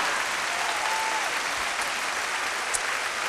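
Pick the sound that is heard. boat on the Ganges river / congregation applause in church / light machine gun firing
congregation applause in church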